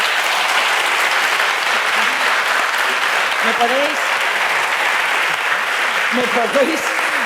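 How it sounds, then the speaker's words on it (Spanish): A live audience at a public talk claps loudly and steadily throughout, with a few voices calling out over the applause. "Yo creo que vamos a darle un aplauso"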